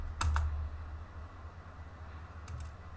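Two quick bursts of keystrokes on a computer keyboard near the start and another brief pair near the end, close and fairly quiet over a steady low hum, with long pauses between them while a network command is entered.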